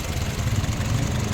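A 2018 Honda City i-VTEC top-end petrol engine idling with the bonnet open: a steady, even low hum and rumble held close by, with no voices over it.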